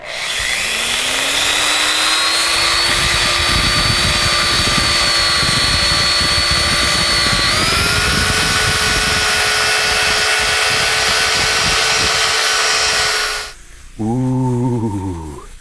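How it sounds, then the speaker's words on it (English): An angle drill with sandpaper whines loudly and continuously, its pitch rising then holding steady while sanding a wooden tree trunk bowl, before spinning down briefly near the end. "I'm going to take my angle drill here with some sandpaper on here and just start working this down"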